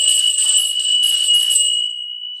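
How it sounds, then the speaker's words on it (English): A bell-ringing sound effect: a bright, sustained high chime that rings steadily and loudly for nearly two seconds, then fades away, with no one speaking. "Let me do what is called a ring a bell."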